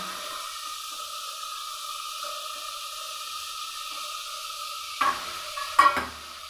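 Chopped vegetables fry in a pan with a steady, even sizzle and a faint whine, then a couple of louder scraping stirs near the end.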